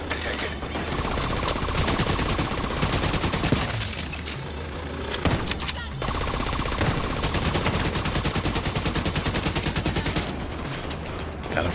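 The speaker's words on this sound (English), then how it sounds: "Is she shooting at me with a shotgun?" Shotgun fire in the video game The Division 2 sounds as loud, rapid, repeated blasts mixed with other gunfire, running almost continuously with two short lulls.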